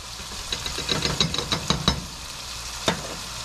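Beef stirred in a frying pan: a series of quick spatula taps and scrapes against the pan over a low frying hiss, then a single knock after a short pause.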